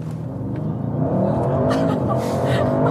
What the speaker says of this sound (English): One more acceleration in the RS mode.